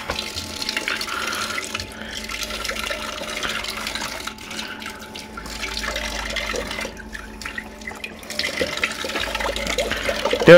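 Water runs steadily from a tap at moderate level through the whole stretch, a continuous splashing flow with small fluctuations and no talk over it.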